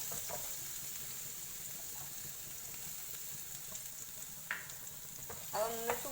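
Finely chopped garlic heating and frying in a pan, a steady, even sizzle close up with a couple of brief stirring clinks near the end and no speech.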